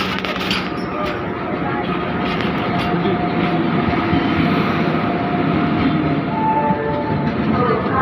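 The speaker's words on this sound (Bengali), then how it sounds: "ট্রেন আসুক, ট্রেনে উঠি" The 13181 Kaziranga Express pulling into platform 2 at Burdwan station, a loud sustained rumble and rolling clatter of railcars close by, with faint station noise around it.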